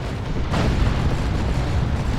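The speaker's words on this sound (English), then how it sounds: "Plasma Cannon gets a really good shot." A plasma cannon shot in Warhammer 40,000: Dawn of War 2 lands as a sustained, rumbling blast that swells about half a second in and holds loud and dense over constant battle noise.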